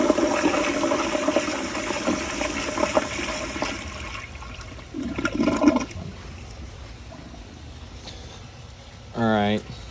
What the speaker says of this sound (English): Let's do a flush with the seat closed.